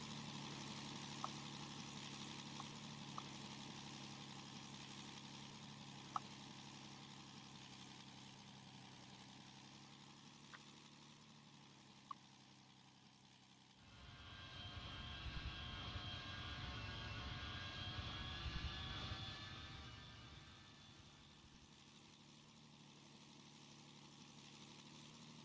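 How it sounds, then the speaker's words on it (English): P-38 aircraft engine in the Roblox PTFS flight game at an airshow, a steady low engine drone that swells into a louder, rougher roar for several seconds as the plane makes a banked pass, then settles back to a quieter hum. "as the P-38 comes in for another slightly banked pass there before levelling out"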